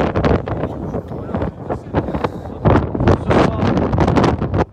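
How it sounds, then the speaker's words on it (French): Strong wind buffets the microphone in loud, gusty rushes that rise and fall over a few seconds. "il y a beaucoup de vent"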